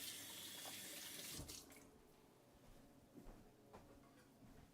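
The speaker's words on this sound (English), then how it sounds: "I want to rinse off this little pastry cutter." Running tap water splashes into a kitchen sink while a small pastry cutter is rinsed, a steady broadband rush that drops and thins after the first second and a half, with faint clinks and splashes continuing.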